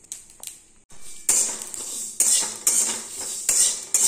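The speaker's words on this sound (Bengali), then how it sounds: "সর্ষে, মৌরি, অল্প মেথি, শুকনো লঙ্কা, তারপরে হচ্ছে গোটা জিরে আর সর্ষে আর ধনে, এগুলো ভাজছি" Mustard seeds, fennel, a little fenugreek, dried chillies, cumin and coriander frying in a wok for pickle masala, with sharp metallic clanks and scrapes of a spatula against the pan in irregular strokes, close and fairly loud.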